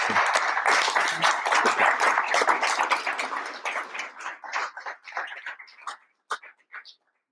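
Audience applause at a talk on ecology, starting as a loud dense burst of clapping close by, then thinning into scattered individual claps and dying away to silence.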